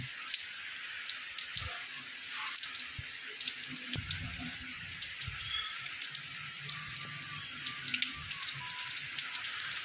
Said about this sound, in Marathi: हा पाऊस ना सकाळपासून चालू आहे असा सेम